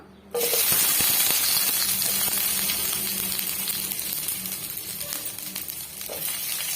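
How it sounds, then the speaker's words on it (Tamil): Chopped brinjal hits hot sesame oil with a sudden loud sizzle that stays steady and close, with light stirring clatter for a few seconds. "இப்போ நம்ம அரிஞ்சு வச்சிருக்க கத்திரிக்காயை சேர்த்து விட்டுக்கலாம்"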